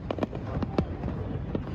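Fireworks show for America's 250th birthday celebration, with repeated sharp pops and crackles over a continuous rumbling wash, fairly loud and steady.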